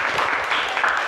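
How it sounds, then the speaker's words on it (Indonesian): A classroom of students breaks into a short burst of dense clapping, loud and continuous for about a second. "Tepuk tangan untuk kita semua."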